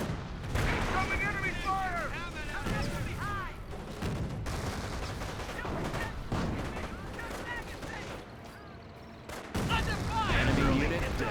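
Incendiary mortar rounds land amid a Company of Heroes 1 battle between US forces and Panzer Elite, with dense gunfire, booms and chatter throughout, a voice talking over the steady din, and a louder burst at the end.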